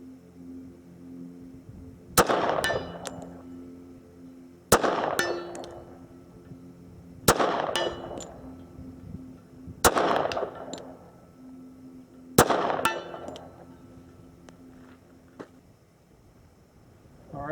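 A 1995 HK USP .45 Auto pistol fires five distinct shots at roughly 2.5-second intervals, each followed by the sharp clang of a bullet striking a distant steel target at an outdoor range.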